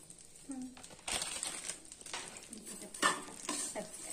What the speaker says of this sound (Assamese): সেৱাইখিনি দি দিম সেৱাইখিনি অলপ ভাজি লওঁ